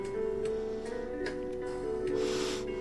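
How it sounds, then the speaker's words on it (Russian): An Arduino-built alarm clock with an MP3 player sounding off, giving a steady tonal melody with faint ticks and a breathy burst near the end, at moderate level. "вот будильник включился"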